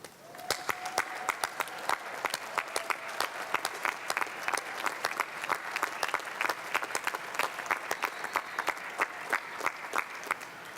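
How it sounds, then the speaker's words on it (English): An audience at the 2002 MIT commencement, standing to applaud, gives sustained, dense applause from many hands at moderate distance, steady throughout with no talk over it. "let's take a moment now to all stand up and acknowledge the contributions of all those who helped us by applauding them"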